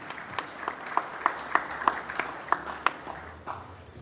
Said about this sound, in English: a big round of applause for this wonderful panel.